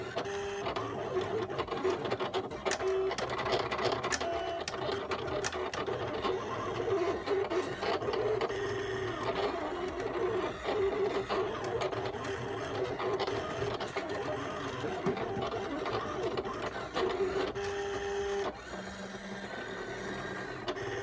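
A print-and-cut machine works through a printed design with a steady mechanical whir and rapid stepping buzz, close and continuous, shifting tone briefly near the end, with no one talking.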